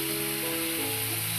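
Fresh coriander and green chillies hit a hot tempering of oil and spices, giving a steady, close sizzle that holds for a moment with a faint tonal hum behind it.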